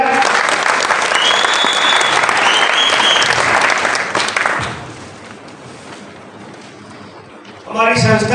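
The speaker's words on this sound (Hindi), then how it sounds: "तो एक जोरदार ताली हो जाए।" Loud audience applause at a training event at Yamuna Palace, Kadipur: a dense, sustained wash of clapping for about four seconds that fades into quieter murmuring, with a voice speaking at the end.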